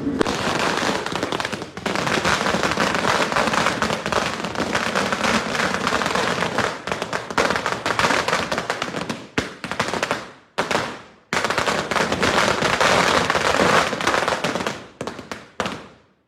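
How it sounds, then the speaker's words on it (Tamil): Rapid, dense strings of Diwali firecrackers bursting loudly, sharp pops blurring into continuous crackling, broken by a few brief pauses before resuming. "நல்லா வெடிக்குதுல பட்டாசு."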